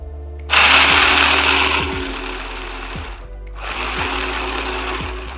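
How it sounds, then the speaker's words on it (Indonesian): Electric food chopper grinding 200 g of fried, drained peanuts for Sundanese peanut sauce, whirring loudly in two bursts separated by a brief pause, its motor tone shifting as the nuts break down. "Ini kalau kita menchopper ya bun, jangan sekaligus, tapi kita berhenti dulu."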